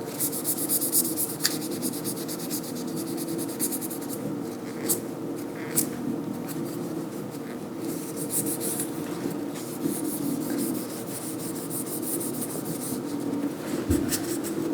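A paper towel is wiped over an oiled carbon steel knife blade with soft, continuous rubbing and light scraping strokes close up, with occasional small taps.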